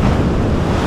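Sea waves roll in on a rough, drizzly day, a loud, close, broadband wash of surf mixed with heavy wind buffeting the microphone, brief and continuous without speech.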